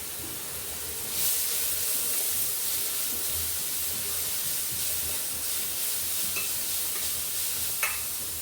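Small shallots sizzling in hot oil in a pan for beef curry, a steady close frying hiss with faint stirring scrapes and no talk.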